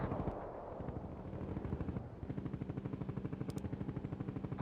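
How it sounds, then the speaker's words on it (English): Rapid, evenly spaced firing from a World in Conflict artillery barrage, preceded by heavy rumbling blasts, the rhythmic volleys loud and close with a brief high-pitched tone near the end. "Launching a barrage."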